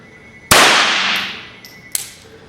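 A single sharp gunshot from a Mosquito pistol firing Remington Gold Box rounds rings out close and loud, its report decaying over about a second, followed by a fainter metallic click.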